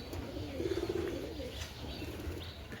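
Pigeons cooing softly amid a rough, noisy background, with a short throaty burst of coos and faint flutter, fairly distant and quiet, no talking.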